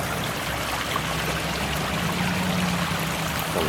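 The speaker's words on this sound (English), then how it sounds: "Water fountains always belong to me." A water fountain in horticultural gardens splashes and trickles in a steady, even wash of falling water, moderately close and unbroken, with no voices.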